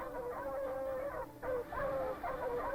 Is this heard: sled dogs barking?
yes